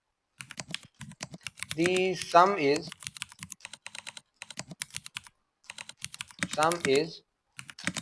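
Typing on a computer keyboard while entering a simple flowchart program: crisp, close clicking keystrokes in short irregular bursts, alternating and overlapping with someone speaking.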